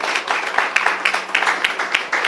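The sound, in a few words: audience applause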